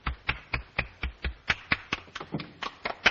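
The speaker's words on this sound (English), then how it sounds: "Applaud." A handful of people clap in a slow, sparse rhythm, about a dozen distinct claps spaced evenly and fairly close, growing slightly quicker and lighter toward the end.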